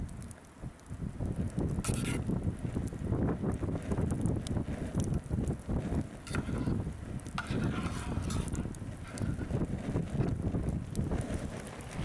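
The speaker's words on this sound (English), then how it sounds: "it's really, really windy today" Strong wind gusting outdoors around a small cooking fire, a steady broadband roar close to the microphone throughout with buffeting bursts.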